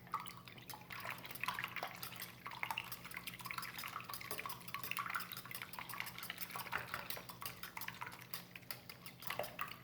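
A steamed egg and cheese mixture being stirred in a bowl, with soft repeated clinks and wet dripping sounds going on steadily at close range and no talking.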